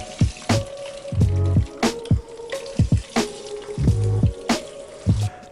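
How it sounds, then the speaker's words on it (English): Water poured from a jerry can into an aquarium tank, splashing and gurgling in repeated close bursts with short pauses between them, no voices. "So get your jerry can, fill it with water, and get pouring."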